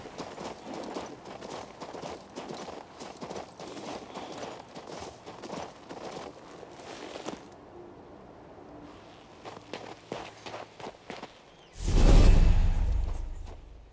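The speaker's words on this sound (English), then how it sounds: "let's ride the horse back to the village" Horse hooves clip-clop steadily while riding in the video game King's Bounty 2, a brisk even rhythm of close hoofbeats that slows and fades, followed by a loud rushing whoosh near the end, with no talking.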